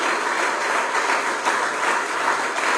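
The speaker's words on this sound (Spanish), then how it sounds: "denle ofrenda de palmas al Creador, que se escuche" A church congregation applauds, a dense, sustained wash of clapping that stays steady and loud from start to finish.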